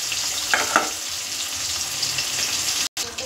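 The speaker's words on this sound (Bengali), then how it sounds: "তো বাকি মাছগুলো একইভাবে ভেজে নেব।" Hilsa fish pieces fry in hot oil with a steady, dense sizzle throughout, and a couple of faint clinks near the start.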